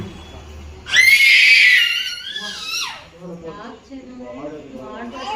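A girl lets out a loud, high-pitched scream lasting about two seconds, then voices talk and another cry trails off behind them.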